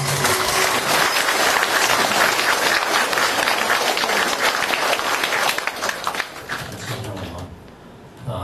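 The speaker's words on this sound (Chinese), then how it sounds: "请大家全体起立，用最热烈的掌声，有请索达吉堪布" A large audience at a Tsinghua University lecture breaks into loud, dense applause to welcome a speaker. The clapping is sustained for several seconds, then thins out and fades toward the end.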